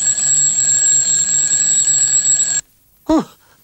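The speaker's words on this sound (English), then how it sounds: "Rhubarb's noisy alarm clock wound itself up and rung its bell as loud as bells" A noisy cartoon alarm clock rings its bell loudly and continuously for a couple of seconds, then cuts off abruptly, followed by a short falling whistle-like squeak.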